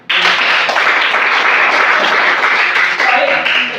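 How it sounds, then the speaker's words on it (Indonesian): A classroom of students claps together in a loud, close burst that starts abruptly and carries on steadily for several seconds, with voices mixed in. "Berikan tepuk tangan untuk"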